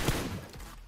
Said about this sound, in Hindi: सामने से फायर आता है